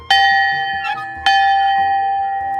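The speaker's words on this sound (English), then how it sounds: "the bell came from a train that carried ore in one of Arizona's copper mines" A bell from an Arizona copper mine ore train rung twice, each loud close strike ringing out with a long bright sustained tone that slowly fades.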